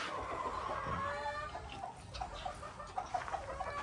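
Gamecock roosters cluck and murmur softly at close range before feeding, with short irregular calls over a faint background hiss.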